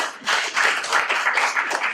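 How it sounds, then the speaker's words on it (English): A group claps together in a solidarity clap, a dense run of close, loud hand claps gradually speeding up into a rapid, continuous patter. "you want to do a solidarity clap to get us together?"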